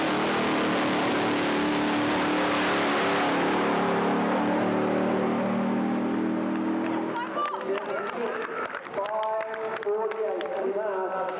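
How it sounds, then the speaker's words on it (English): A drag racing car at the NZ Nationals launches hard down the strip, a loud, dense engine roar sweeping through the first seven seconds before fading into crowd murmur and a commentator's voice. "Look how hard that car launches."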